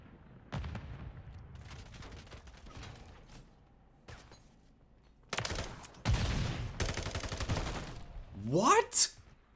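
Gunfire in Modern Warfare III during a Search and Destroy match: scattered single shots, then dense bursts of rapid fire toward the end, loud and sharp, with a voice talking over parts of it.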